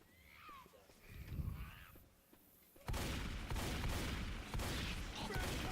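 Gunfire in Left 4 Dead 2 erupts as a sudden loud burst of repeated shots after a quieter stretch with faint in-game sounds, continuing as dense rapid gunfire to the end.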